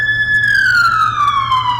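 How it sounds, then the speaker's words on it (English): A wailing emergency vehicle siren passes outside, loud and continuous, its pitch sliding slowly downward as it moves away. "And apologies for the sirens"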